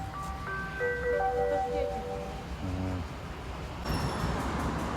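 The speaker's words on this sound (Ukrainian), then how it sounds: "Локомотив під'їхав, підчіпляє вагони." A locomotive pulls up and couples onto railway wagons: metallic squeals and a short run of clanking knocks rise over a steady, close rumble, with a sharper hiss near the end.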